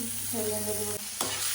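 Onions drop into a hot pan and sizzle, a short burst of frying hiss with a steady tone beneath and a brief clatter near the end.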